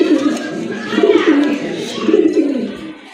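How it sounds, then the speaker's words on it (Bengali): A pair of Lahori pigeons, large fancy-marked birds, coo steadily and close by, their low throaty calls rising and falling in repeated soft swells with no talk over them. "দেখতে পাচ্ছেন এক জোড়া লাহোরি কবুতর"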